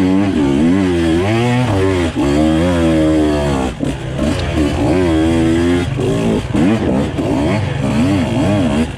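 A Husqvarna TE 150 dirt bike engine on an off-road ride, recorded up close from the rear fender: a loud, continuous two-stroke buzz that rises and falls as the throttle is worked, with no break throughout.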